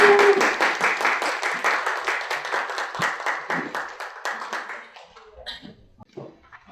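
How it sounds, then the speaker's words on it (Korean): An audience at a Korean cosmetics professionals' association meeting claps for a speaker, a dense rhythmic burst of hands that thins out and fades after about five seconds. "박상훈 대표님을 큰 박수로 보내겠습니다."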